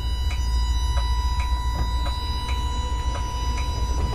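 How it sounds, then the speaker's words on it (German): Tram doors close in the TramSim video game on a run toward Vienna airport, a regular series of soft clicks and thumps over a steady electric hum and low rumble, with no talk. "Türen schließen mit R."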